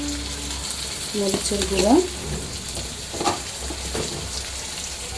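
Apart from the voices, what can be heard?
onion and spices frying in a pan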